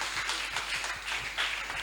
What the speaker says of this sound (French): Applaudis fort.